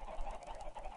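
Minecraft chickens cluck in a short burst of repeated clipped, honking bird calls from the video game, fairly quiet and with no speech.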